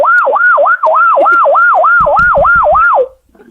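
A human voice imitating an ambulance siren in a rapid rising and falling wail, loud and close, repeated about nine times, with clattering noises partway through and a brief voice after it stops.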